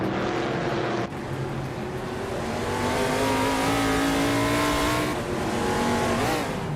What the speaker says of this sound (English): The NASCAR 1970 cars are all pretty evenly matched